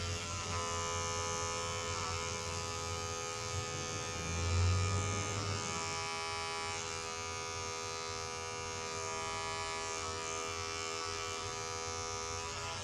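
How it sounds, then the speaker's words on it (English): An electric trimmer buzzes continuously during a neck trim, a close, steady whine that swells slightly partway through and never stops. "The neck trimming took over when you were saying that last bit"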